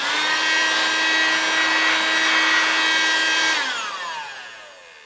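A small electric air blower runs loud and steady, clearing sawdust off a wooden workpiece in a woodworking shop, then spins down and fades out over the last second or so.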